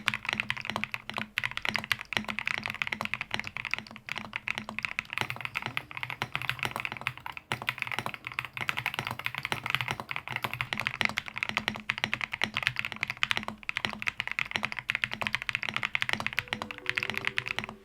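Continuous fast typing on an Epomaker RT series budget mechanical keyboard, a dense stream of close clacking keystrokes at an even level.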